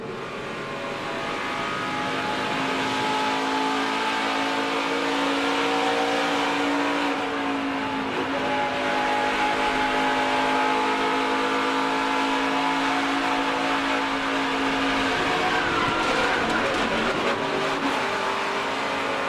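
A NASCAR race truck engine screams at full throttle from onboard at Darlington Raceway, loud and continuous with pitch rising and falling through the corners and shifts.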